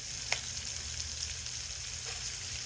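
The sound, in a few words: pork and vegetables browning, sizzling in a pot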